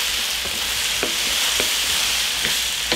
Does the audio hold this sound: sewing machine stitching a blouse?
no